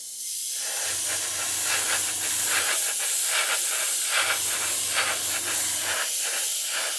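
Steady hissing spray of paint onto a model's fin, continuous and close, with a low motor hum switching on and off underneath.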